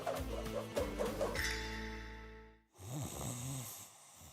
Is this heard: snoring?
yes